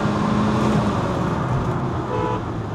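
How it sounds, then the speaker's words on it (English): A Fiat Avventura hot hatch engine revs hard as it accelerates in second gear from about 30 km/h, a loud continuous droning roar heard from inside the car with no talk. "that engine starts yelling"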